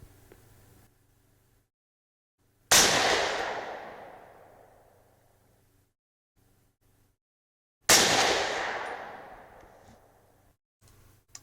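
Two loud .308 Win rifle shots fire a few seconds apart, firing 168gr Sierra Match King and Hornady Match loads through an AR-Comp muzzle device, each a sharp crack with a long decaying tail before near silence.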